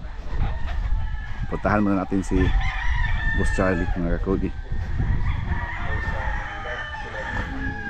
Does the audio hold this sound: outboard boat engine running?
no